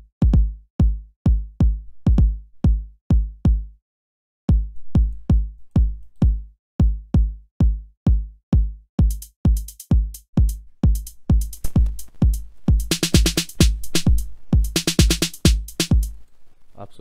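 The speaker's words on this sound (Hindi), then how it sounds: "किस प्रकार साउंड करता है ये सुनिए पहले किक को।" A booming electronic kick drum programmed in FL Studio for a rap beat hits in a steady four-on-the-floor pulse, pauses briefly, then carries on as bright hi-hats and snare layers join in over the later bars.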